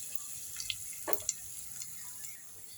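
Mustard seeds, fennel seeds and chana dal fry in sesame oil for mango rice, a faint steady sizzle with scattered small pops and crackles.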